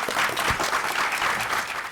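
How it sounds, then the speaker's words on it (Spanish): Audience applause at a binational social work conference in Tijuana, a steady, dense wash of many hands clapping that fills the whole stretch at an even level, with no talk over it. "Un aplauso para Mari."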